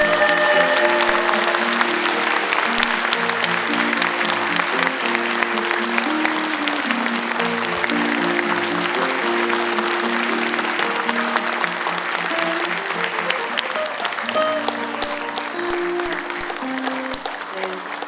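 Audience applause at a book concert, continuous dense clapping over a backdrop of music with a sung melody, holding steady throughout.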